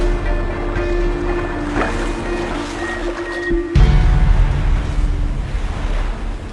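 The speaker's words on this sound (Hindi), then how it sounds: "बीच में पानी का करंट बहुत तेज है" A fast river current rushes and churns steadily, loud and close, with a broad roaring wash and a sudden surge partway through.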